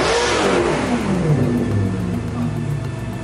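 A Maserati Quattroporte engine revs loudly and close by, its deep roar holding strong through the whole stretch with pitch sweeping up and down as the throttle is worked, no voices present.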